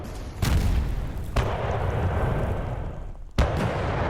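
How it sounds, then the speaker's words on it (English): Mortar fire in the Panzer Campaigns wargame set during the Kiev 1943 battle: loud booming blasts, three sharp reports with a heavy rumbling roar sustained between them, close and dominant with no talk. "All right, shoot the mortars."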